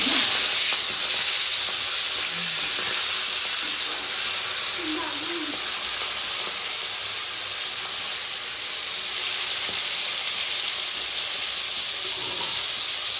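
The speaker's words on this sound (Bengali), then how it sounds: "তেল গরম হয়ে গেছে, এবার চিংড়িগুলো দিয়ে দেবো।" Prawns fry in hot oil, making a steady broad hiss and sizzle that holds for the whole stretch, with faint voices talking in the background.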